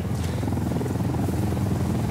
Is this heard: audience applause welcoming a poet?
no